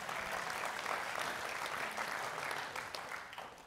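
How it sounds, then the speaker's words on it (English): A church congregation applauding during a sermon, a steady, moderately loud patter of many hands that tapers slightly toward the end. "you can amen that, you can applaud that"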